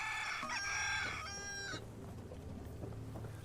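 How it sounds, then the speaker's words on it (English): Roosters crowing in the farm settlement of the game Sim Settlements 2 around dawn, a loud close crow with harmonic calls over a low ambient hum, fading into quieter background sounds. "I think we have the roosters set up to crow."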